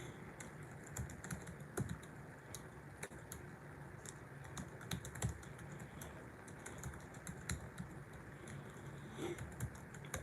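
Typing on a computer keyboard: quiet, close clicks and taps in an uneven rhythm of short bursts and pauses, continuing for about ten seconds with no speech.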